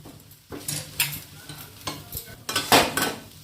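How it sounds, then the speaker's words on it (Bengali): Potatoes are stirred with turmeric and chili powder in a pan, producing irregular scraping and clattering strokes with a soft sizzle, in bursts about half a second apart. "আলুর সাথে ভালোভাবে মিক্স করে নেওয়া হচ্ছে"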